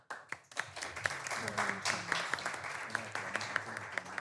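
An audience applauds a speaker at a French talk, with a steady patter of clapping and a few sharp, loud individual claps standing out near the listener.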